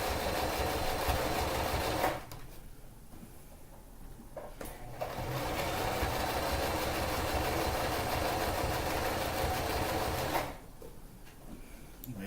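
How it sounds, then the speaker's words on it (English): A sewing machine stitches a handle strap slowly and steadily, its motor whirring loud and close in long runs with a couple of brief pauses between bursts. "I am going to sew very slowly"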